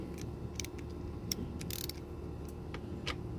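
A 12mm hex socket on a socket wrench tightening a fitting during an oil change on a John Deere S130 lawn tractor gives off a faint ratcheting with scattered clicks and creaks over low hum, with no talk.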